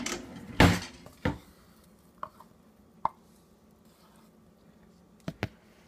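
Cashew butter is dumped out of a container with a loud knock, then a few scattered lighter taps and clunks against the container in an otherwise quiet room.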